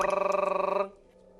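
An unanswered telephone call rings with a fast, trilling electronic tone that pulses rapidly and close, then cuts off abruptly into near-silence.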